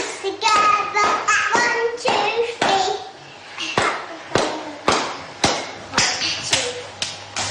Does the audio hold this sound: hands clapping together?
yes